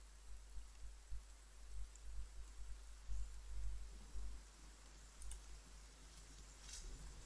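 Rain falls steadily in the medieval game Die Säulen der Erde, a soft continuous hiss with faint scattered ticks and drops over a low rumble, with no one speaking.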